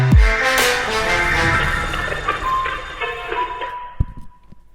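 Electronic sweep effects from a Cymatics sample pack in a trap remix, sustained tonal layers with rising and falling swells over a dense mix, loud and continuous before thinning out with a few sharp hits near the end.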